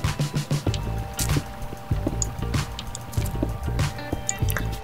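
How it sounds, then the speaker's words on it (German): Water splashes and drips in Minecraft, inside a mine, with repeated soft sloshing pulses and a steady bubbling rhythm throughout, moderately loud with no talking. "Das Plätschern wird lauter."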